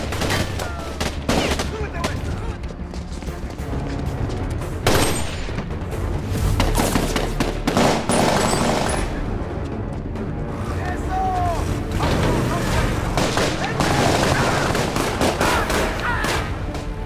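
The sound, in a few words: gunfire during a shootout in an action film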